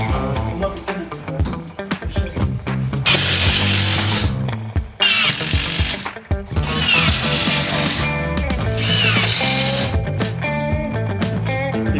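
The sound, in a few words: power tool cutting wooden battens to fit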